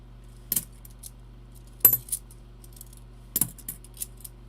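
Clad half dollar coins clinking and clattering in short bright bursts as they are handled, three main clusters with lighter taps between, close and otherwise quiet.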